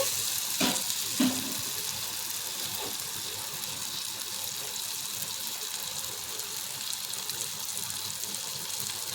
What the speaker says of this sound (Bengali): টমেটো কুচি দিয়ে আমি একটু ভালো করে নাড়াচাড়া করে একটু ভেজে নেব।